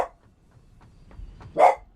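A single sharp bark from a pet dog named Sparkle, close and fairly loud, following a near-silent stretch with faint earlier yips.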